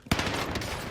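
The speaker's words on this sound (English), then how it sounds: "We have a gunshot going off close left." A single close gunshot in a competitive shooter cracks sharply at the start, then rings on with a dense, noisy tail that fills the rest of the short moment.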